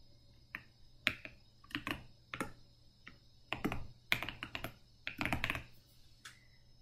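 Close fingers type on a computer keyboard, entering report parameters in short bursts of sharp key clicks separated by brief pauses, with no talking over them.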